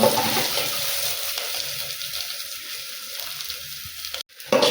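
Ginger and garlic frying in a pan for a curry, a steady hissing sizzle that holds evenly, then cuts off abruptly near the end before resuming.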